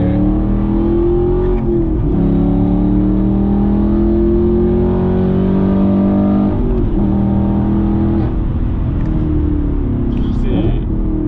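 Loud engine revving and pulling hard inside a sports car, pitch rising through the gears with brief shift pauses; people talk over it.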